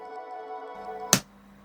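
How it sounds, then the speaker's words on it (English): A single sharp snap of plastic fracturing as a model part is clipped off the sprue, quick and close, cuts through a faint steady background hum. "That's the sound of plastic fracturing."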